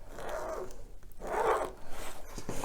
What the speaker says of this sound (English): to very carefully cut out with your regular scissors.